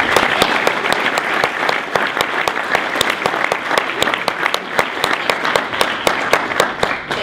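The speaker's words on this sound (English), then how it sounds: "Ladies and gentlemen, please join me in welcoming Kelly Torrance" A conference audience at a CPAC panel fills the room with loud, sustained applause, dense rapid clapping holding steady throughout with no break.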